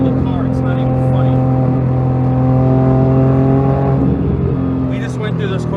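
A 2011 Porsche GT3RS sweeps through corners at about 100, its engine a loud, smooth, sustained tonal drone that shifts pitch slightly through the bends, with brief voice sounds near the end.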